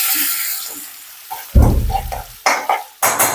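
Ground garlic sautéing in hot oil as the tempering for Rajasthani dal bati, close by, with a soft hiss that swells into a loud sizzle and then comes in several sharp bursts.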